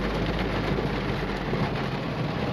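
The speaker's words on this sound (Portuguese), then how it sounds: "Ó, a chuvarada caindo de novo" Heavy rain pouring down on a city street in Porto Alegre, a dense steady hiss with low rumbling underneath, constant and close with no voices.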